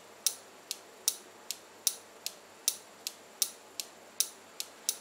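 A 12V relay in a DC air cooler water level indicator and auto pump circuit clicks sharply about a dozen times at a steady, quick rhythm, close and distinct over faint low hum, with no talk.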